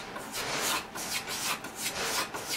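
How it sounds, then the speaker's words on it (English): A knife skives a waxed cavalry boot leather stiffener, a close, dry rasping scrape repeated in steady strokes with no talk. "if I'm going to skive a stiffener like this, waxed cavalry boot leather"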